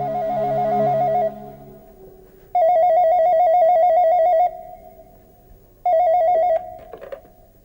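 Telephone ringing indoors in repeated electronic bursts, each lasting about two seconds with short pauses between, loud and close with no talk.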